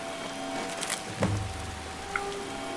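Water drips like rain inside a wet waterway in Skyrim, with scattered drips patterning over a low hum and a single dull thud midway.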